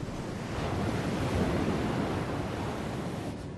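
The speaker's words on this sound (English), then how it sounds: "As the vessel closes in, the waves pick up." Ocean waves wash and surge continuously around Sofugan, a remote rock islet south of Tokyo, a broad roar of surf mixed with wind buffeting the microphone.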